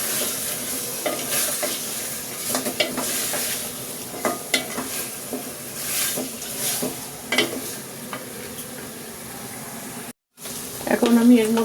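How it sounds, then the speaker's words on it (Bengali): Chicken and potatoes sautéing in a pan, with a steady sizzle and repeated scraping stir strokes throughout, nearby and moderately loud, a brief gap near the end. "এটাকে আমি একটু ভালো করে আবার একটু কষিয়ে নেব।"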